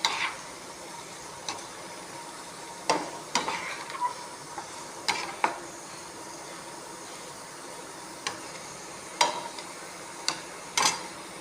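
Finely chopped cabbage sautéing in a pan for a cabbage omelette, with a soft steady sizzle broken by repeated spatula scrapes and clacks against the pan at irregular intervals, close and fairly quiet.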